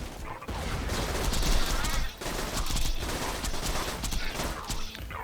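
A Hornet gun in Borderlands 2 fires in long, dense bursts of rapid shots, loud and continuous, with a brief gap near the start and another around two seconds in, alongside explosions and battle noise; a voice speaks faintly beneath.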